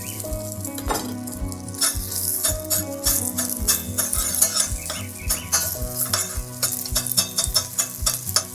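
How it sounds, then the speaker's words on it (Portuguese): Lard sizzles and crackles in a heated pan, close and fairly loud, with repeated stirring and utensil scrapes over a constant frying hiss and some background hum. "eu vou começar adicionando o lardo."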